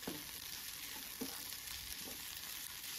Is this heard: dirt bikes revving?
no